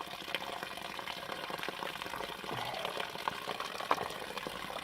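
Water pours and gurgles steadily into a dirty-water bag meant for filtering with a Sawyer filter on a backpacking trip, a close, continuous liquid rush with a few small splashes and no talking.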